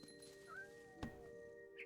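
An angry cat in the video game What Remains of Edith Finch lets out short, sharp cries over a quiet electronic hum, with a brief thump in between.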